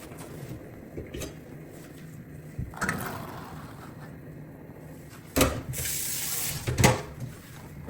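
Tap water running into a sink to change the soaking water on beans for Nigerian adalu, with brief bursts and splashes of flow, a louder rush near the end, and clatter of handling between.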